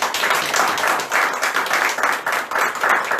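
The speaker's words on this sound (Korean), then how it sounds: "우리 크게 수고했다고 박수 한번 쳐주시죠." A church congregation applauds during a Sunday worship service, steady broadband clapping from a full room that swells and dips in waves for a few seconds.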